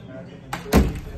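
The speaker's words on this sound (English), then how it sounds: "come on shut the door for everybody come in" A door thuds shut in a home, a single solid closing impact after a brief rattle, heard close with a voice in the room around it.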